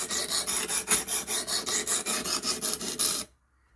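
A knife edge is drawn repeatedly across the stone of a WorkSharp Precision Adjust sharpener, about fifteen evenly spaced rasping strokes, close and steady, then stopping abruptly.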